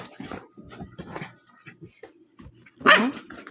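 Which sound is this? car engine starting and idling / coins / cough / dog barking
dog barking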